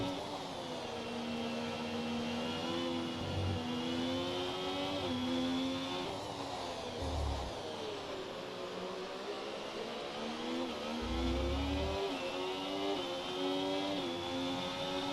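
A Formula 1 car in the F1 24 racing game whines at high pitch, its engine note falling and rising as it brakes into a corner, with a few low thumps from downshifts.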